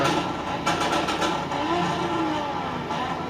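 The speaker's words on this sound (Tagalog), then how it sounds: "Maingay na nga yung multicab natin" A small multicab engine drones and revs continuously nearby, a rough buzzing roar that swells slightly without letting up.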